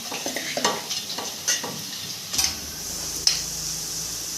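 A spoon stirs cooked potatoes into sabudana khichdi in a pan, giving irregular close scrapes and taps over a soft, continuous sizzle, with no talking.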